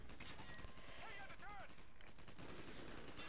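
Rapid gunfire in the Call of Duty Ghosts campaign, a dense, continuous stream of shots and bursts running the whole length, loud and close, with a voice talking over parts of it.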